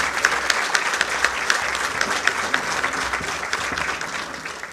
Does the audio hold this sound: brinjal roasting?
no